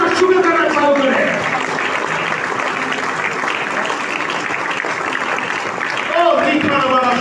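Church congregation at a Hindi worship service clapping hands, a dense continuous patter of many hands mixed with voices calling out and praising, filling the whole stretch at steady loudness.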